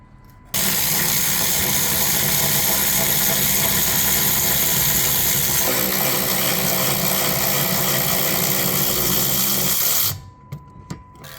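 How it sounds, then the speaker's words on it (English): A small electric ratchet runs continuously for about ten seconds while loosening bolts on a Tesla Model S rear camber arm, a steady close whirring buzz that shifts pitch slightly midway and then stops. "We're gonna go ahead and use a little electric ratchet."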